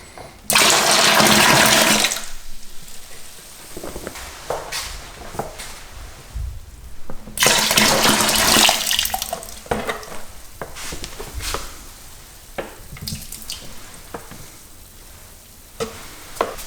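Hot water rushes into a plastic beer fermenter while brewing a Coopers IPA kit, two loud gushing bursts of pouring separated by quieter sloshing and small knocks.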